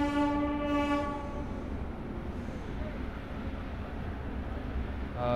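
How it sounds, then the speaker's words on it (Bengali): Purulia-Howrah superfast express train pulling out of Bishnupur junction, with a steady loud rumble of rail cars and a sustained horn tone at the start, with the sound carrying through to the end. "আমাদের ট্রেন ছেড়ে বেরোচ্ছে বিষ্ণুপুর জংশন"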